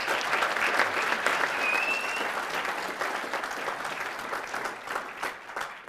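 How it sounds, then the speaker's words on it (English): An audience at a campus speaking event gives a steady round of applause, dense clapping from a large crowd that holds throughout and thins slightly toward the end. "Yeah, we have a round of applause for them,"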